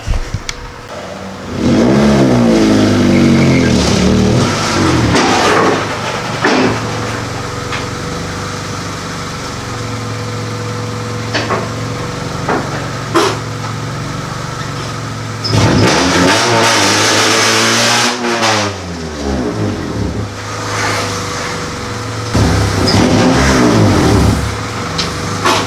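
A lifted Honda Civic's engine revs hard several times as it pulls into the shop, loud and close, with rising and falling surges between steadier running.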